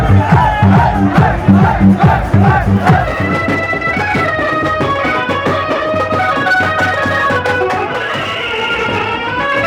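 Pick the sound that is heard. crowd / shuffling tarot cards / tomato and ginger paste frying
crowd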